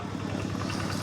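Walking tractors gathered from village households to help build a rural school in Laos idle nearby, a steady low rumbling chug that runs evenly throughout without a break.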